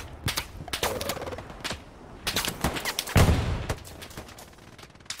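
Video game gunfire: bursts of rapid shots and scattered single cracks fire off in uneven clusters, loud and close, with short gaps between volleys.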